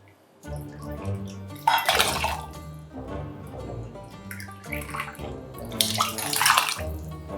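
About four ounces of canned water pours into a shaker while a rum grog cocktail is being mixed, giving a close, splashy gush with swelling bursts and drips.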